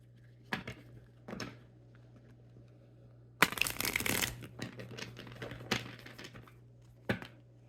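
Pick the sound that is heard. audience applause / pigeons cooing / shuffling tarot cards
shuffling tarot cards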